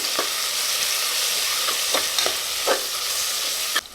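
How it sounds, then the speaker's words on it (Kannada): Leaves sizzling in hot oil while a spoon stirs the pan, sharp scraping strokes recurring every half second or so over the steady fry. "ಇದನ್ನು ಚೆನ್ನಾಗಿ ಫ್ರೈ ಮಾಡ್ಕೋಬೇಕು"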